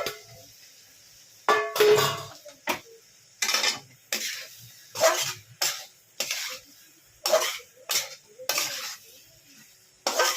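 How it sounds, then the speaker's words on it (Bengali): Potatoes and green jackfruit tossed into cooked-down spice masala in a pan for a jackfruit and prawn curry, giving a run of scraping, stirring clatters and sizzles in uneven bursts, close and moderately loud, with no talking. "আমি এবার এর মধ্যে আলুগুলোকে দিয়ে দিচ্ছি, আর এঁচড়গুলোও দিয়ে দিচ্ছি"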